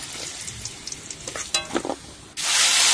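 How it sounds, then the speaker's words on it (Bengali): Prawns dropped into a pan with salt and turmeric: a few scrapes and clatters, then a sudden loud, steady sizzle of frying that fills the last stretch. "চিংড়ি মাছেও লবণ হলুদ দেবো, দিয়ে ভালো করে ভেজে নেবো।"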